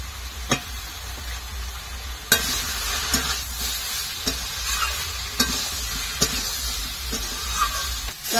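A curry with ground cumin paste and a little ginger sizzles steadily in a pan while being stirred, with periodic sharp scrapes and knocks of the spoon against the pan over the constant frying hiss.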